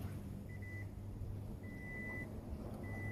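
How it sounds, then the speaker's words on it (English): A Toyota Prius with a failed 12-volt accessory battery powers up, giving three short, faint high beeps over a low steady hum. "As you notice, the car powers up"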